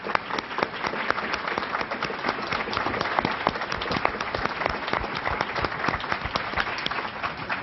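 An audience at a Sixth Floor Museum event at Dealey Plaza, Dallas, breaks into sustained applause, a dense, even wash of many clapping hands without pause.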